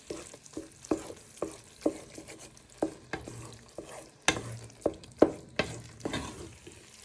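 Prawns tossed in a pan of tomato cream sauce with basil and seasoning over lowered heat, giving repeated sharp scraping and clattering tosses at a steady rhythm over a soft continuous sizzle, close and fairly loud.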